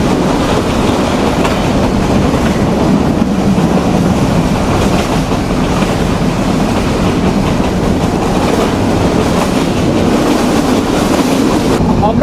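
Heard from inside, the Sundarban Express runs from Dhaka toward Khulna at moderate speed with a steady, loud rumble and a clickety-clack of wheels over rail joints, plus a faint wheel squeal, for about twelve seconds.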